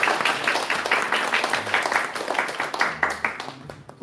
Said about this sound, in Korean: 우리 정필현 권사님 우리 환영해 박수.